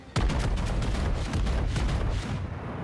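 Naval guns fire a full broadside of ten barrels from a battleship in World of Warships, a sudden heavy boom followed by a sustained rumbling roll of gunfire that stays loud throughout.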